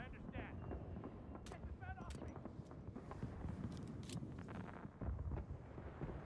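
A fireworks lure goes off in a video game, with a string of sharp pops and crackling bursts, some bright whistling tones, over a busy background of voices and game noise.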